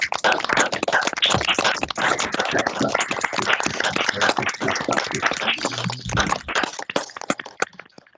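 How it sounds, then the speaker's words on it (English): Applause for a speaker at an Irish Studies seminar held over a video call: dense, mixed clapping from several unmuted participants, crackly and compressed, that keeps up steadily and then thins out toward the end. "we can give Feargal a round of applause in the traditional way"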